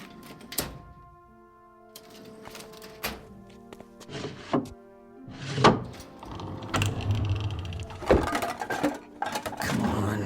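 In a radio drama, an unlocked door is handled and opened with wooden thunks, clicks and knocks spread over several seconds, loud and close, with some light rattling.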